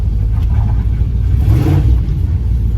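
A turbocharged LS-powered Caravan idles to warm up, its engine a loud, deep, close rumble that swells briefly in the middle before settling back to a steady idle.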